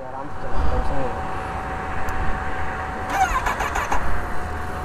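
Kawasaki ZX10R sportbike fired up with its electric self-starter: a steady low engine rumble under voices talking, with a brief burst of higher mechanical noise near the end.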